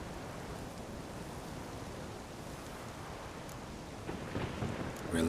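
A thunderstorm in The Witcher 3 rumbles as a low, continuous roar of rain and distant thunder, fairly quiet and steady throughout with a few faint sharper sounds near the end.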